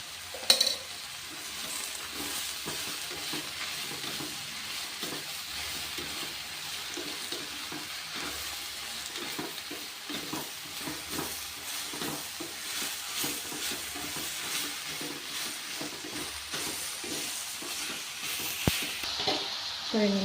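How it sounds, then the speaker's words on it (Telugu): Bitter gourd frying in a little oil in a pan, a steady low sizzle and hiss running throughout with occasional faint stirring scrapes and a sharp clink near the start and end. "కాస్త నూనె వేసుకుంటూ ఫ్రై చేసుకుంటూ ఉండాలి"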